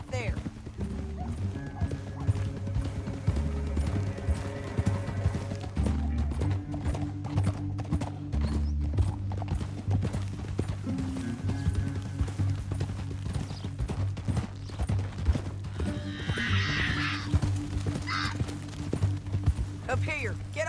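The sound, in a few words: horses galloping, hooves clip-clopping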